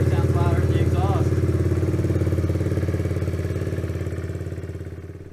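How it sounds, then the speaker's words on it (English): Kawasaki Z125 motorcycle warmed up and idling close by, a steady low thrumming pulse with a loud, breathy intake rush from the air cleaner, slowly fading in level. "Goddamn air cleaner sounds louder than the exhaust."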